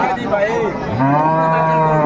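A dairy cow with her calf lets out a loud, close moo that rises and holds steady at a busy rural cattle market in Bangladesh, with a second lowing call overlapping near the start.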